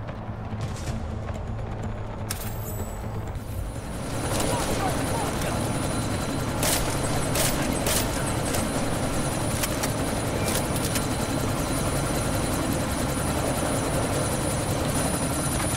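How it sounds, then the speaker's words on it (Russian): Helicopter in the video game Deus Ex: Mankind Divided, a steady, loud droning rotor and engine roar that holds throughout, with voices talking over it. "вертолет обездвижен, повторяю"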